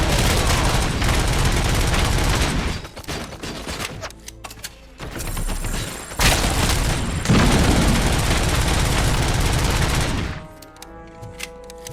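Heavy automatic gunfire from RoboCop's gun in the video game RoboCop: Rogue City, long loud bursts broken by short pauses, with booming impacts and a mechanical clatter as the shooting stops.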